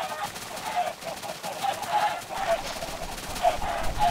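Minecraft chickens cluck in short repeated bursts over a busy, noisy game soundscape, with the clucks fairly close and mixed under steady background clatter.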